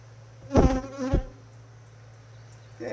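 Agitated honey bees buzz near a hive during a colony split, with two loud buzzing passes close by over a steady low hum, then quieter background buzzing.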